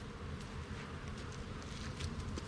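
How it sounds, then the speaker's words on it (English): A dense, steady buzzing of many honey bees on a hive frame during an early spring hive inspection, faint and continuous, with no voices. "I'm actually gonna knock all these bees off"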